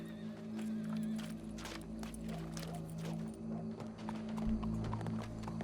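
Horse hooves clip-clopping in Red Dead Redemption 2, a steady run of hoofbeats over a low droning game soundscape, moderately near and without talk.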